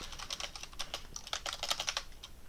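Typing on a computer keyboard: quick, irregular runs of close, crisp key clicks over a quiet room, with no talking.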